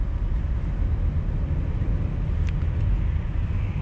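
Car driving along Abay Avenue in Kostanay, with a steady low engine and road rumble heard from inside, continuous and moderately loud.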